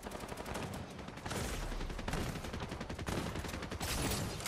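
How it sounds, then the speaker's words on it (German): Rapid bursts of pistol fire in Fortnite crack out in quick succession, loud and dense, with a constant noisy backdrop of game effects. "3 Schüsse mit dieser Pistole, ey."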